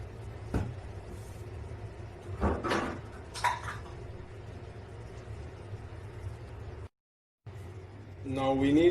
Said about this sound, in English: And we're going to stir it well.